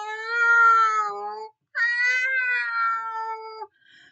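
A voice imitates a hungry cat howling in a told folk tale: two long, drawn-out, wavering meow-like wails separated by a short pause.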